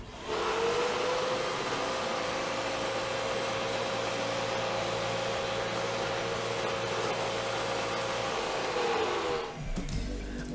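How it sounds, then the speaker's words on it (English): An ordinary household vacuum cleaner runs at a steady, loud whine with a constant hum for nearly ten seconds, then cuts off abruptly near the end. No one speaks. "I'm using a regular vacuum cleaner."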